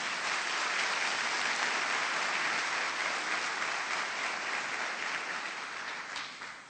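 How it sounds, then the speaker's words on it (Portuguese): A church congregation applauds during a worship service, a full, steady burst of clapping from many people that holds strong and then tapers off toward the end. "Pode aplaudir o Senhor."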